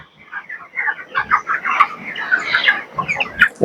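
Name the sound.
chickens clucking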